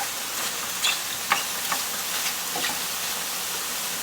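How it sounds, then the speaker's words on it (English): Steady close-up sizzling in a pan, with a few short squeaky chirps and soft stirring scrapes poking through the frying hiss. "you hear them sizzling and squeaking?"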